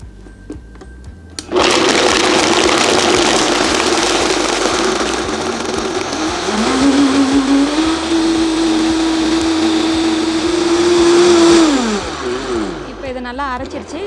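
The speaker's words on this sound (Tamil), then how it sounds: "இதை பிளெண்டரை நல்லா ஹை ஸ்பீடில் வச்சு ஒரு நிமிஷம் நல்லா பிளெண்ட் பண்ணிக்கோங்க." A countertop blender running at high speed on carrots, almond powder and ice, a loud steady whirring drone that starts abruptly, rises in pitch as the load smooths out, then winds down at the end.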